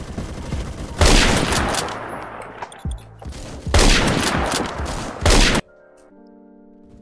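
Rapid bursts of automatic gunfire from the Roblox shooter Phantom Forces, loud and close, in two long sustained volleys separated by a brief lull, cutting off abruptly into near silence.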